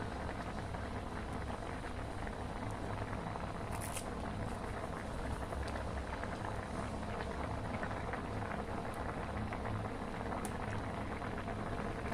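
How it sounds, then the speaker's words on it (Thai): A pot of Thai fresh bamboo shoot curry with scraped featherback fish boils steadily, a dense, even bubbling and simmering hiss throughout with no talking. "แล้วก็ปล่อยให้เดือดค่ะ"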